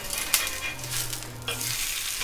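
Thalipeeth frying in ghee on a griddle, a soft continuous sizzle with a short utensil scrape near the start and another clink partway through, no voices.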